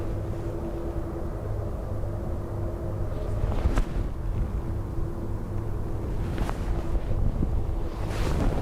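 High winds from Storm Bram buffet the microphone at Dublin Airport, a continuous loud rumbling roar with gusty surges and a steady low hum beneath.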